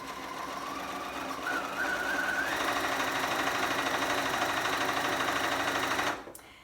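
A sewing machine stitches steadily through the layers of a quilt with a lengthened stitch, a fast continuous whirring hum and needle patter close by that stops abruptly near the end.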